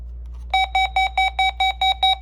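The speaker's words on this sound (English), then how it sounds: "That's just the test beep." A weather radio sounds its test beep, eight evenly spaced, loud electronic tones pulsing in quick succession over a low steady hum.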